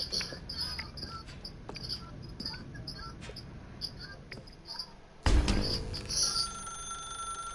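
A telephone rings in a dark room in The Stanley Parable video game. The shrill tones repeat in a rhythmic pattern over faint chirping ambience, then a sudden louder thump-like change occurs partway through.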